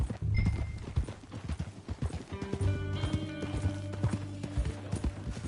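Horse hooves clip-clop steadily and close by in the video game Red Dead Redemption 2, a brisk rhythmic clatter of repeated hoofbeats carrying through the whole stretch with a faint whinny-like tone mixed in.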